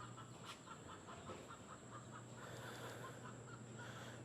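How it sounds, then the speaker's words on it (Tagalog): Chickens cluck in a rhythmic series of short, faint calls near a house beside a church on a Philippine morning, over a steady background hum with no talking. "Ayan ang mga manok."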